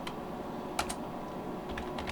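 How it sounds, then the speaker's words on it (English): Quick keystrokes on a computer keyboard, a few sharp clicks in small clusters over a steady low background hum, close and fairly quiet. "we just type IPv6"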